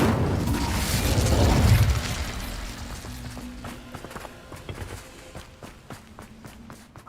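An Incendio fire spell cast in Hogwarts Legacy, a loud whooshing fiery burst up front that dies away into quieter, steady footsteps.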